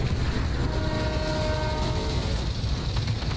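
A train rumbles steadily in a video game, a loud continuous rolling drone with a faint sustained horn-like tone partway through, close and without talk.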